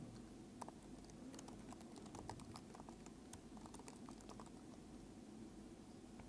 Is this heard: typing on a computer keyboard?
yes